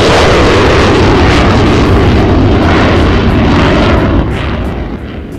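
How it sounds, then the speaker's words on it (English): A military jet roars overhead near Virginia Beach, a loud, continuous broadband rumble that fills the whole stretch and only begins to fade in the final second. "then the jet flies by, I have to stop for 40 seconds and wait for it to fly by"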